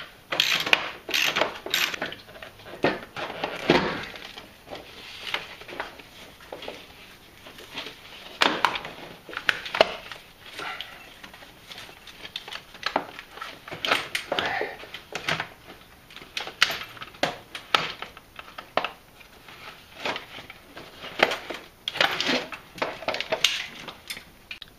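Ratchet wrench working on engine bolts of a Jeep 4.7HO V8 during a camshaft and solid lifter install, giving repeated bursts of quick metallic clicking and clanking, close up, with brief pauses between runs and no talking.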